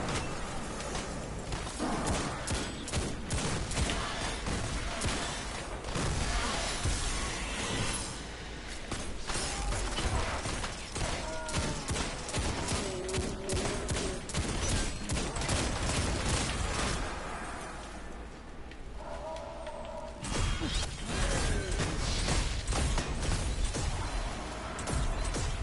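Gunfire from the video game Destiny 2 during a raid: rapid, sustained bursts of shots layered over dense, loud game effects, with short lulls between volleys and no talking.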